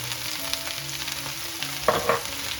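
Okra frying in a pan with turmeric and salt, a steady close sizzle with a low background hum and two brief louder bursts of crackling near the end, no talking.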